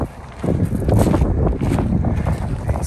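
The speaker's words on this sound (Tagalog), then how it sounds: "Lumalakas yung hangin." Strong wind buffets the microphone outdoors in the Versailles gardens in France, a steady loud low rumble with gusts swelling and easing throughout, with no talking.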